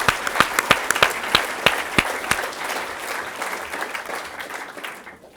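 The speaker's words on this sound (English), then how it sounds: "So let's give them a round of applause." An arts-event audience breaks into applause, a scatter of sharp claps that swell into a steady, moderate round and then fade out.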